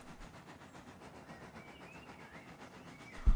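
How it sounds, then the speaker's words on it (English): A steady low rumble with a faint rhythmic clatter of a small tank engine rolling slowly along the rails, ending in a louder thump. "the train rolled slowly down the line"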